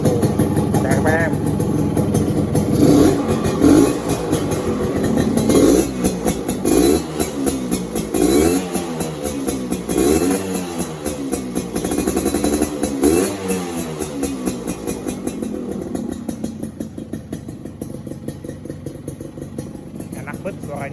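A two-stroke Suzuki Satria motorcycle engine runs with a rough, rising and falling rev, loud and close, with voices talking over it at times.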